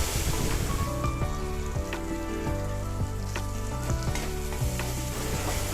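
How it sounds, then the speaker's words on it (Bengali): Spice paste with turmeric, Kashmiri chilli powder and green chilli paste frying in a pan, a loud continuous sizzle punctuated by repeated clinks and scrapes of a spatula stirring, with no voices. "এবার লো ফ্লেমে মশলা থেকে তেল ছাড়া পর্যন্ত কষিয়ে নেব।"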